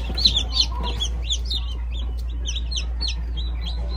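Newly hatched chicks in an incubator peep in a rapid, continuous chorus of high chirps over a steady low machine hum, fairly quiet and with no talk.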